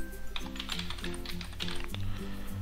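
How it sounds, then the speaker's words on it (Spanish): Rapid keystrokes on a computer keyboard typing a word into a search text box, a steady run of close, crisp clicks over a low background hum with no talking. "haremos clic en la caja de texto título y escribimos principito"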